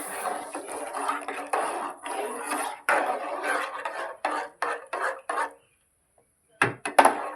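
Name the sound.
pot handled while putting tea on to brew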